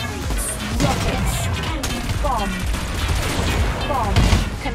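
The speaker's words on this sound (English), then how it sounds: "Rockets." Rockets fire in the futuristic racing game Wipeout Omega Collection, a dense volley of sharp blasts and crackling explosions over a continuous roaring engine bed, loud and close throughout.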